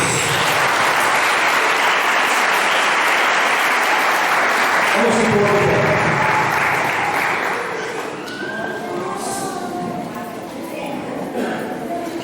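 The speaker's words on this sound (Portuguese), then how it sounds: "Vamos aplaudir a Jesus" A church congregation applauds loudly and steadily for several seconds; the clapping then thins and fades as a voice speaks over it.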